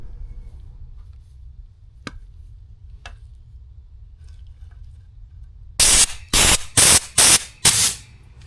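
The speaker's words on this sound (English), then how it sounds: "I'm gonna deburr this and then blow this out with air" Compressed air blasts through a cut oil cooler line on a Chevy OBS Silverado, coming as five sharp hissing bursts in quick succession after a quiet stretch with a couple of faint clicks.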